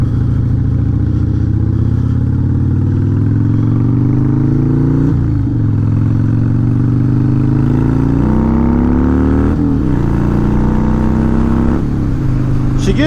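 Harley-Davidson Dyna motorcycle engine running while riding, a loud close throbbing rumble that rises in pitch through several gear pulls, with brief dips between shifts and steady wind noise.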